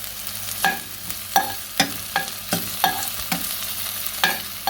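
Chopped onion fries in olive oil in a pot over medium heat, stirred in regular strokes, each one bringing a scrape over a low, steady sizzle, close and with no talk.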